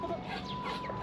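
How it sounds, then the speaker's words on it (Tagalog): A chicken in a backyard garden gives a quick, soft cluck or two, close by and brief. "Hawak-hawak ko yung manok niya."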